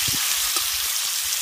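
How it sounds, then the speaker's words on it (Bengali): A ground paste of cucumber leaves, mustard, green chilli and garlic hits hot oil, producing a loud, close, unbroken sizzle with a few low sputtering pops. "এবার গরম তেলের মধ্যে বেটে রাখা পাতা, সর্ষে, কাঁচা লঙ্কা আর রসুন দিয়ে বেটে রাখা মশলাটা দিয়ে দেবো"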